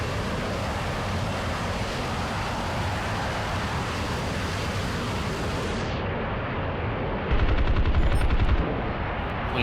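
Aircraft guns fire in War Thunder as a dense, continuous rattle of rapid shots over a roaring, wind-like rush of flight, loud and unbroken, with a short heavier burst near the end.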